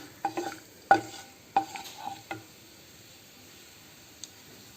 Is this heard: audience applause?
no